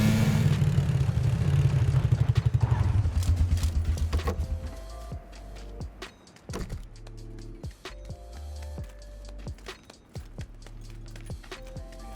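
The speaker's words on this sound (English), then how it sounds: "he jumps back in the buggy and heads back to safety" A buggy in PUBG Battlegrounds driving off, a loud engine revving and pulsing that gradually fades, followed by scattered clicks, thumps and game sounds.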